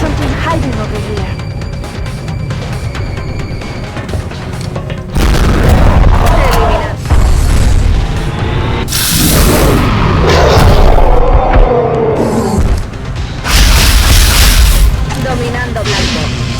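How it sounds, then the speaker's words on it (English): Grenade blasts go off in the XCOM: Enemy Within video game, several loud booming explosions rolling one after another over a dense battle mix, with voices heard in between. "Grenade!"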